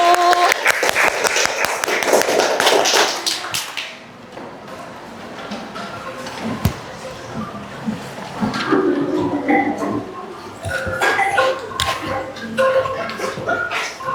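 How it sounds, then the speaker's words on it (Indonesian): Clapping from classmates for a group about to perform on angklung, a loud burst of dense applause at the start that thins into scattered claps, shuffling and chatter from the room. "tepuk tangan untuk kelompok 1"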